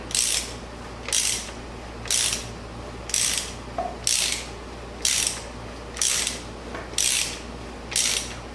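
The engine of an abandoned, slightly rusty 1984 Honda Saber VF700S is turned over in about nine evenly spaced bursts of ratcheting, clicking mechanical noise, each roughly a second apart and close by.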